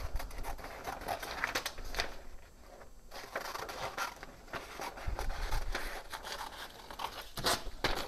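Paper cutting template being cut out by hand for a budget crosskart tube jig, giving steady rustling, crinkling and snipping sounds close up, with no talking.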